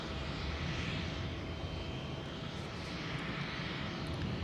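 Jet airliner departing overhead from runway 09R at London Heathrow, a steady broadband engine roar that holds loud and even across the few seconds without any voices.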